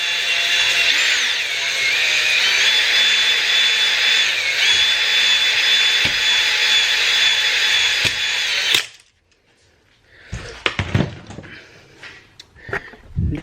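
Drill-driven hone works an engine cylinder bore with a loud, steady whirring grind for about nine seconds, then stops abruptly, followed by quieter clatter and handling noises.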